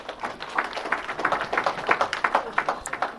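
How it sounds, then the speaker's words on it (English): Applause from a conference audience after a travel risk management panel, a steady patter of many hands clapping at moderate distance with no talk over it. "Please give him a round of applause, and thank you for your attention."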